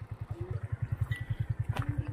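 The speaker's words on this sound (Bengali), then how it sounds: "বন্ধু বেরিয়ে পড়েছে বাইক নিয়ে" A motorbike engine putters close by with a steady, rapid low thumping pulse throughout, a brief higher note breaking in near the end.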